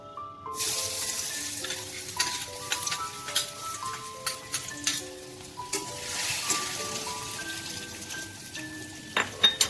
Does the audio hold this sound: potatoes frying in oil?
yes